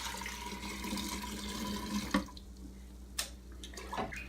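Brewed black tea for kombucha is scooped and poured, giving a soft watery rush followed by a few sharp splashes and drips, close up and fairly quiet.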